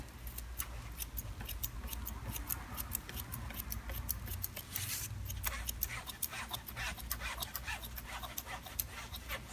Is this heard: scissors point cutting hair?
yes